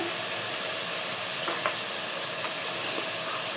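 Fried spice paste for a hotel-style mutton curry sizzles steadily in a pan, a close, even hiss with a few faint clinks as mutton is added.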